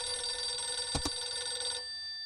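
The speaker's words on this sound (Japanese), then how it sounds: "疑問に答えるようにレトロな電話の音が聞こえる。" A retro telephone rings in a video game, a steady electronic bell tone held at low level with two short brighter bursts in the middle, fading slightly near the end.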